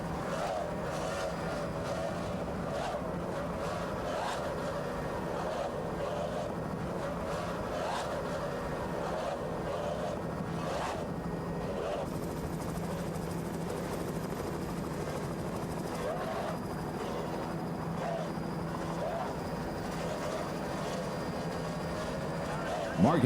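Roaring Pro Stock racing powerboats with 2.5 EFI engines drone steadily throughout at South Padre Island in 1994, loud and continuous, with a voice talking over them.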